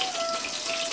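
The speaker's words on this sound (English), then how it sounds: "this is cooking, this is frying" Brief, dense crackling sizzle of whole hard spices frying in a hot pan, steady and close.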